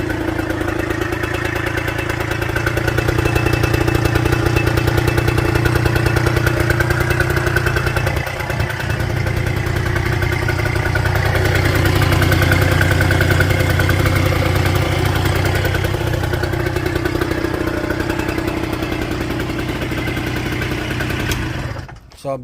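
A rebuilt Kawasaki KFX80 quad engine idles through its running-in period, a steady, close, unbroken putter with no talk that cuts out abruptly at the very end.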